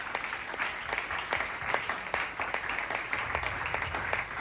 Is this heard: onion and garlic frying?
no